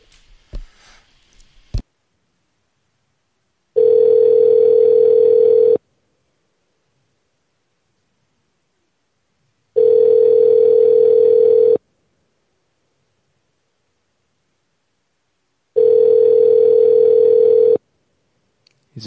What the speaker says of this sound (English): Should be ringing in a second here.